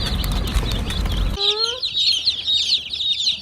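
Young chicks, a new batch of chickens being given feed and water in a barn, a dense chorus of high peeping and chirping, with a loud rumbling noise in the first seconds that cuts off abruptly.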